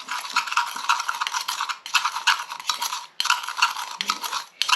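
Salt and malted milk powder are stirred together for homemade Rice Krispies cereal, giving bright scraping and gritty rasping strokes in three bursts separated by brief pauses, close and with no talk.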